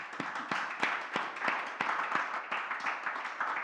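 An audience at an event applauds three former members of the Catalan Parliament, producing a fairly faint, steady patter of many hands clapping with a few sharper claps standing out.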